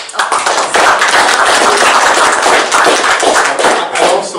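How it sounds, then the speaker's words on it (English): An audience at a lecture on CARICOM in an island lecture series breaks into a round of applause, a dense, loud and steady wash of many hands clapping with no voices over it. "So again, another round of applause"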